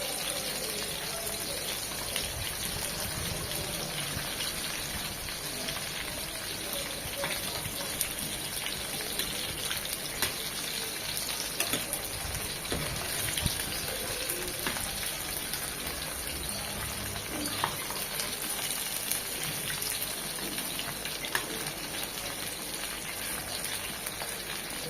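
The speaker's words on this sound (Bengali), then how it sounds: "ওই পাশটা এরকম 1 মিনিট ভেজে নেব।" Poya fish fries in oil, one side browning, with a dense, continuous, close sizzle dotted by small crackles and spits that holds steady for the whole long stretch. No speech.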